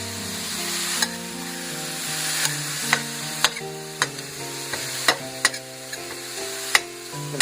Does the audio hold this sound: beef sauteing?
yes